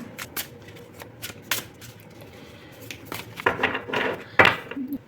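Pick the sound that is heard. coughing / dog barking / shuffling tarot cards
shuffling tarot cards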